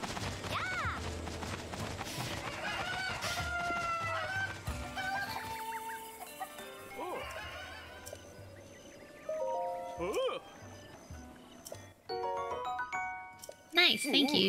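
A chicken in the Breath of the Wild video game clucks in short, squawking bursts mixed with bright game chimes and melodic sound effects, close and moderately loud.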